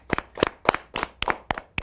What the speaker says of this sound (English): Big round of applause to them.